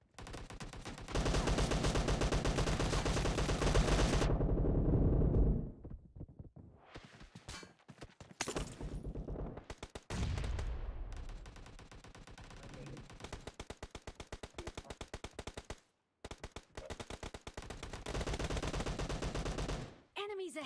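Heavy PUBG gunfire in dense automatic bursts and single shots, loud and near throughout, with short pauses between volleys while players talk briefly over the action.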